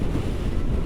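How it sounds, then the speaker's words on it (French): Strong wind on the Norwegian coast buffets the microphone in a continuous, loud low roar with no gaps, and no voices are heard. "Il y a un vent de malade, c'est horrible."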